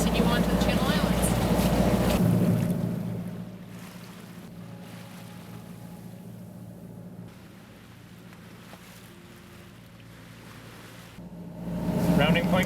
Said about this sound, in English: motoring in a calm, which is perfect.